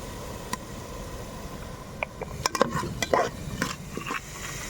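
A spoon stirs ginger garlic paste in a pot for biryani, making scattered scrapes and metallic clinks over a low background hum. The stirring grows busier toward the end, with no talk.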